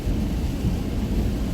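Rain and thunder outdoors make a dense, steady low rumble, with a constant wash of rainfall throughout and no voices.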